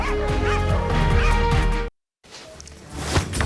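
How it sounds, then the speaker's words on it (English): Wiener dogs at a dog race in Germany, a burst of close, rapid yapping and barking over crowd noise, then a brief silent cut before quieter, more distant background sound. "hundreds of wiener dogs head to Germany for the International Wiener Dog Races"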